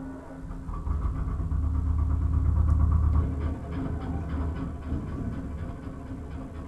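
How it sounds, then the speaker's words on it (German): A tractor engine rumbles up outside a radio studio, a steady low mechanical drone that swells loudest midway and then settles into a quieter idle, heard from a little distance with no talk over it. "der Traktor ist schon eingetroffen"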